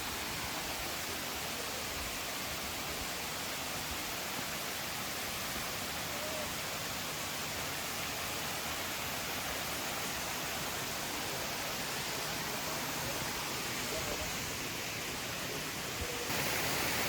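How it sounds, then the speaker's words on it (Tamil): Kiliyur waterfall at Yercaud runs low with little water, giving a steady broadband rush of falling water that stays even and close for the whole stretch, with no voices. "காய்ஸ் ஃபைனலி ஃபால்ஸ் கிட்ட வந்துட்டோம்."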